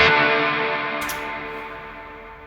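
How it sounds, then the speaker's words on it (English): A guitar chord strummed through the reverb on a Quad Cortex, bright and full at the start, then a smooth reverb trail that keeps ringing and slowly fades over a couple of seconds, with no talk. "if I hit a chord and turn it off, you should hear that the effect continues on"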